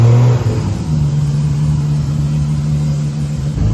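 A Toyota Supra with a 2JZ engine revs inside a shop, a loud, continuous mid-range roar that holds steady for several seconds before trailing off at the end, with no talking.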